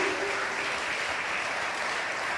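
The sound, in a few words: congregation clapping hands in church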